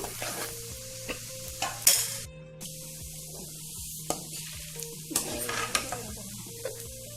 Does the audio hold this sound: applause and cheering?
no